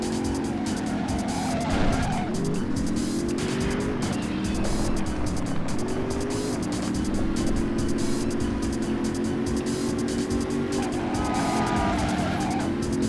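A car tearing through city streets in the driving game Driver 2, its engine droning steadily with repeated tire squeals as it swerves around corners, loud and continuous throughout.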